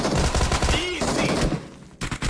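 Loud burst of shotgun fire from a PUBG Mobile match, dense rapid blasts at close range in the first half, then a short pause and a few more sharp shots near the end.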